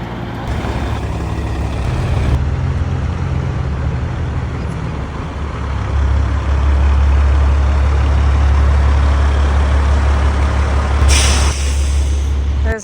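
Heavy trucks in a 22-vehicle convoy pulling into a campground on the way to Kansas, with a loud, continuous low diesel rumble, air-brake hisses and passing vehicle noise building through the stretch.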